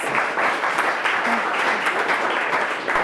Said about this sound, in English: Give yourselves a round of applause for being good sports.